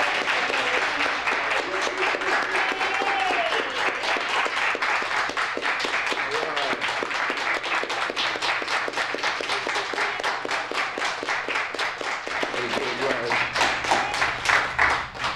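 A library poetry-reading audience claps in a long, even round of applause, many hands close and crisp throughout, with a voice speaking over it partway through.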